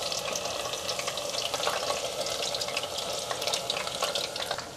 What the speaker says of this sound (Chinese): 准备一个小炸锅，锅内放入油，用个圆勺把馅料放在里面